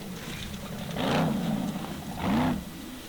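A Formula Offroad car charges through water at a Icelandic torfæra race, its engine surging in two loud roaring bursts with a wash of splashing between, heard from a distance.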